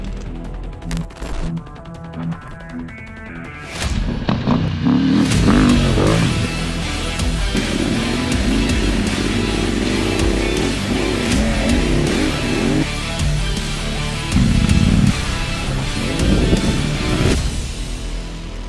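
A KTM 890 Adventure R motorcycle rides off-road in rally mode. Its engine revs and roars loudly and continuously, with sharp throttle blips, popping bursts and a few abrupt cuts and restarts.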